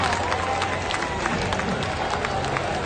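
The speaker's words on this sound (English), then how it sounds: "Give him a round of applause." Crowd applause and cheering at a burnout event for Ford Tremor pickup trucks, a steady wash of clapping under continuous crowd noise with some voices.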